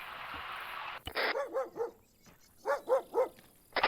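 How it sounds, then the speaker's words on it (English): Several dogs bark in the ARMA video game, first a quick run of four or five sharp barks, then after a pause another burst of three, with steady wind-like noise before them. "I'm hearing a lot of dogs barking right now."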